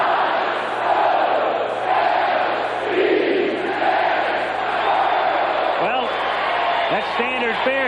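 A Baltimore Orioles crowd at the 1983 World Series, led by a fan, roars in a dense, sustained wash. Louder swells surge toward the end as the chant builds, with some voices rising above the mass.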